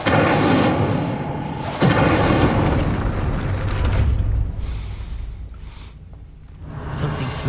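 An Incendio fire spell cast in Hogwarts Legacy, a loud booming burst of flame followed by a second blast and a fading roaring rumble.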